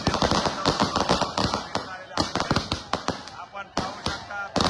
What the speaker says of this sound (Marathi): दादांच्या स्वागतासाठी फटाके लावले